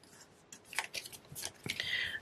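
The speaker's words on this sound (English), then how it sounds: "I'm going to just take a pair of scissors here and cut this excess off, just flush with my panel." A pair of scissors trims excess card stock flush with a panel while making a pergola greeting card, giving a few close, crisp snips and rustles of paper over a quiet background.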